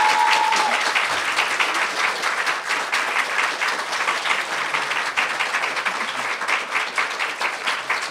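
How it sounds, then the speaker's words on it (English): Sustained audience applause fills a convention panel room at a pony fan convention, steady and fairly loud clapping throughout with no talk over it. "One more round of applause."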